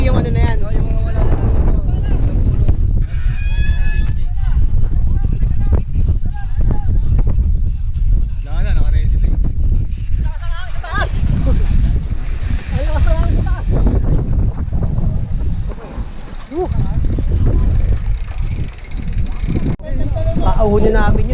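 A strong headwind buffets the microphone on Dead Man's Trail, steady loud gusting rumble that surges and eases throughout, with cyclists calling and talking over it.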